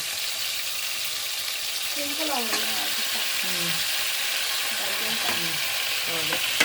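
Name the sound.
mutton pieces frying in a pan for mutton sambar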